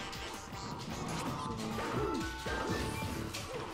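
A forward smash landing in a competitive Super Smash Bros match, a sharp crashing hit over game effects and crowd noise, with a commentator talking.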